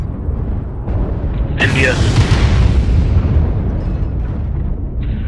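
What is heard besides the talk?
airstrike explosions in MechWarrior Online video game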